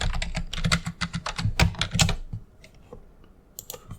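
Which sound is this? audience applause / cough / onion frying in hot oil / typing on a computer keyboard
typing on a computer keyboard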